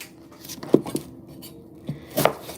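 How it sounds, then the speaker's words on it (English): A knife chops onion into matchsticks on a cutting board, giving a few sparse, close knocks with one sharper pair of strikes near the end against faint kitchen background. "It's like really easy style of cutting the onion."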